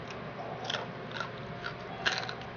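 Someone bites into crispy-skinned Vietnamese roast pork, producing a few soft, crackly crunches close to the mic amid quiet room noise.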